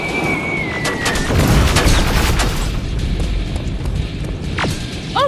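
Gunfire in the Terminator Resistance Enhanced game on PS5 keeps up a loud, dense barrage of booming shots and rattling bursts, layered over a continuous rumbling battle din.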